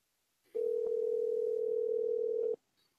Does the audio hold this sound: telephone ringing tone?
yes